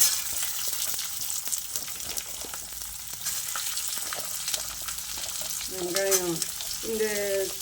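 Onions and pirandai frying in a pan for chutney crackle and sizzle steadily up close, punctuated by spatula taps, with a brief whistling tone rising near the end.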